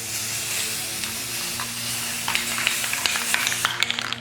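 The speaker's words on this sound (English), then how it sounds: "I'm priming the mask front and back so you can't really see it" Spray primer hissing onto a Jason mask, front and back, as a steady broadband spray runs throughout with a few sharper bursts toward the end, close and fairly loud.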